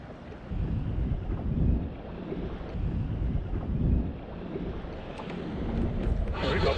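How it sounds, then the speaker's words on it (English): Wind buffets a fishing boat on the water during spring walleye fishing on a river, a steady broadband rumble with gusts rising and falling throughout, alone with no talk. "I'm hoping the wind dies down here and we can fish more traditionally."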